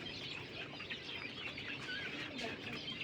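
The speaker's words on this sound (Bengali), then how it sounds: "ওই যে ডিমে তা দিচ্ছে কিং কোয়েল পাখি" King quail birds, one brooding on eggs, give faint soft chirps and small clucking calls over a low, steady background hiss, quiet and close.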